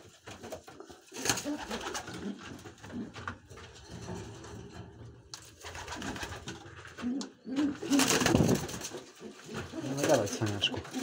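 Pigeons cooing inside a pigeon loft, soft repeated coos near and far mixed with scuffling, wing flutters and a few clattering knocks.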